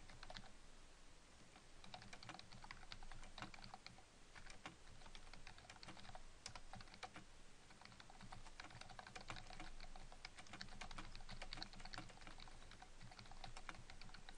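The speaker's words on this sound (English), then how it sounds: "I just typed a couple of lines from this book" Steady, quiet typing on a computer keyboard, with keys clicking in quick, uneven runs throughout and no voices.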